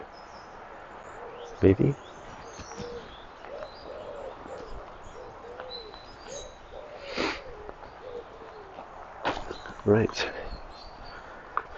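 Outdoors in the English countryside, birds coo softly in the background while someone speaks a few brief words close by.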